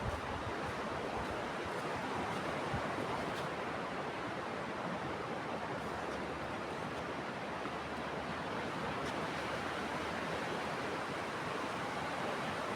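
Ocean surf at a quiet beach in Tibau do Norte, Brazil rushes in a continuous broad wash of waves, steady and moderately loud, with some wind and no voices.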